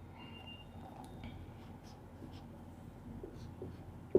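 A pen scratches on paper as a vector diagram is drawn by hand, a faint close-up scraping with short strokes and taps that ends in a sharper tap.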